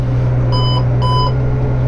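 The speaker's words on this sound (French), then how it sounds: "le double bip, ça veut dire que mon semoir a bien pris en compte qu'il était relevé complètement" Two short electronic beeps from a seed drill, confirming it is fully raised, sound in quick succession over the loud, constant drone of a tractor engine while sowing rapeseed.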